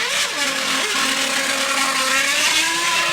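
Formula 1 engine of Montoya's Williams entering the pits at the 2001 Italian Grand Prix, a steady, loud whining drone with shifting pitch held for a few seconds.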